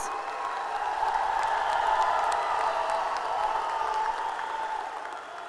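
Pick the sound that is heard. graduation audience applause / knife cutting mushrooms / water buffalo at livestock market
graduation audience applause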